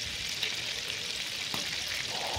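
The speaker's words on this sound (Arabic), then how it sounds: "بدا طول الدجاج يتقلى" Pieces of chicken escalope fry in hot oil and melted butter, giving a steady, close, continuous sizzle with a bright crackling hiss throughout and no voices.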